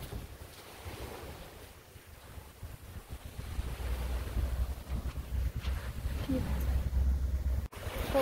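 Atlantic Ocean waves roll onto a Cape Cod beach at sunset, a steady low roar that builds louder through the stretch, mixed with wind buffeting the microphone.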